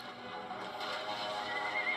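Horses pulling a carriage in the Van Helsing video game give a clear neigh and whinny over a steady background of game sound, with rising whinnies toward the end.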